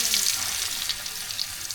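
Pangas fish fries in hot oil, giving a soft, continuous crackling sizzle with fine spitting pops throughout.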